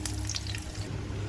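Garlic and onions sauté in a pan for a bamboo shoot stir-fry, giving a steady, close, moderate sizzle and hiss with faint clinks, and no talking.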